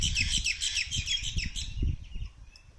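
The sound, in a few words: birds chirping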